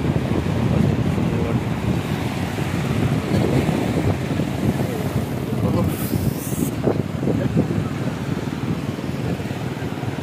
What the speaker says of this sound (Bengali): অনেক ঢেউ আসছে, আবার চলে যাচ্ছে, অনেক ঢেউ